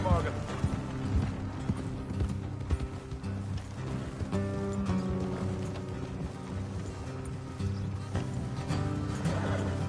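Horse hooves clip-clopping on a road in Red Dead Redemption 2, a steady rhythmic trot of several horses with creaking tack, heard under continuous talk and a game music score.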